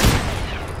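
A sniper gunshot from a silenced rifle in the shooter game Escape From Tarkov, a single loud boom at the start that fades into a faint rumbling tail.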